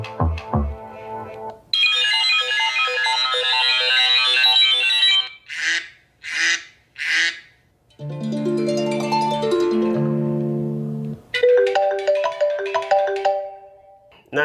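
An iPhone 6 clone phone plays its ringtone: a loud, melodic run of bright electronic tones in several distinct phrases, with no talking.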